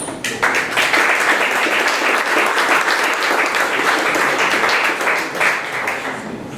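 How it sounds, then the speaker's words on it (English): Loud, dense audience applause at a 1 Million Cups startup pitch event, many hands clapping together in a sustained, even roar that begins abruptly and holds for several seconds before easing slightly. "please give a warm round of applause for Relax and Order"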